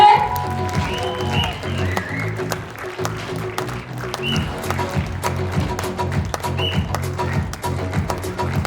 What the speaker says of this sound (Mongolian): Эцэгчүүд маань алга ташаад өгөөрэй.